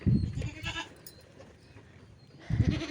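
Young goat kids bleat loudly and close by, one burst at the start and another near the end, with quieter farmyard rustle in between.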